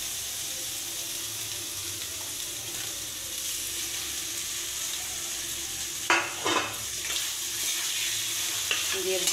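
Boiled, mashed potato hits hot spice masala in a kadai, sizzling and frying steadily with stirring scrapes and a few sharper clatters of the spoon partway through, close and alone without talk.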